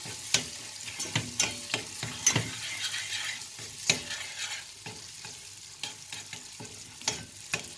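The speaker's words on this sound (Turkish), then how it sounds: "Bir kaşık tereyağı ekliyorum. Ve güzelce karıştırıyorum." Butter stirred into melted sugar caramel in a pan, a spoon scraping in quick irregular strokes over a soft sizzle, fairly close and clear with no voices.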